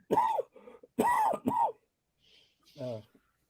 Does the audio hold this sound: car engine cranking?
no